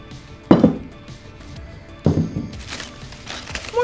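Stoneware slow cooker pots come out of a box amid packaging, giving two distinct hard clunks of ceramic set down, followed by lighter rustling and knocking.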